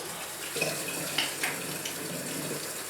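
A thin trickle of cold water runs steadily from a tap onto an old sponge at a sink, a continuous close hiss with faint splashes.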